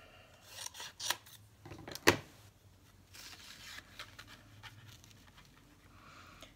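Scissors snip around a Santa shape traced from a Christmas cookie cutter for a gift tag, giving short close crisp cuts and rustling paper, with one sharper snip standing out partway through.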